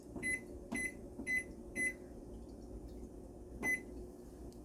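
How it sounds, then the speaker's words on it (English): Oven timer beeps in repeated short electronic tones: four evenly spaced beeps, a pause, then one more, fairly clear over a low background hum in a home kitchen. "I'm going to set my oven timer for 19 minutes."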